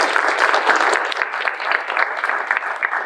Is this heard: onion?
no